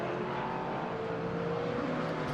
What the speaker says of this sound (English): Various different car characteristics fighting for track space as they all concertina up into Maggots